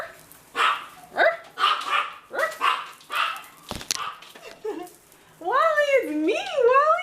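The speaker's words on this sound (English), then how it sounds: "I walked into the house like this, and he's still barking at me." A dog barks in a rapid series of sharp, fairly close barks that break into whines and yelps, and a person's voice joins in over the last stretch.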